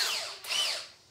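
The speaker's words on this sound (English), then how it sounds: "we're going to take our power drill with our stir stick and we are going to mix that thoroughly" A power drill spinning a stir stick to mix sage wine must until the sugar dissolves, a close whirring whine that dips briefly mid-burst and then rises again, heard alone with no talk.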